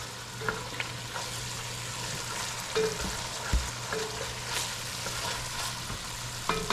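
Hassa fish curry frying in a pot, a steady low sizzle with occasional spoon knocks and scrapes against the metal, heard close with no talking.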